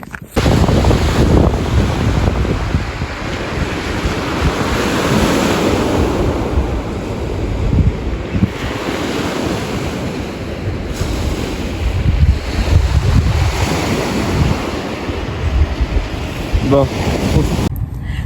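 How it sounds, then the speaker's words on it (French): Sea waves breaking and washing on the beach at Yport in Normandy, a loud, continuous roar of surf with heavy wind buffeting the microphone throughout, no clear voices. "on est juste allé sur la plage d'Yport"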